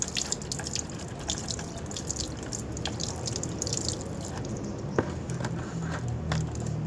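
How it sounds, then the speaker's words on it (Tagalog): Water poured and dripping while cleaning the dirty filter area of a clogged washing machine, a close irregular patter of drips and splashes with occasional sharper drops, steady and fairly quiet throughout. "Kumuha ko ng isang langganang tubig para linisin itong maduming area ito"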